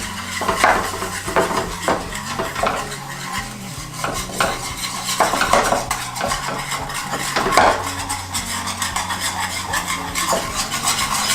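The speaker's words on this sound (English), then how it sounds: "And we're going to stir that up. And this will be our gravy." A utensil stirs gravy with fresh thyme in a pan, making repeated scraping and clinking strokes in an uneven rhythm over a low simmering hiss. The sound is close and fairly loud, with no talking.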